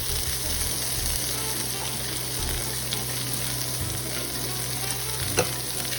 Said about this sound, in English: I'm gonna add some more butter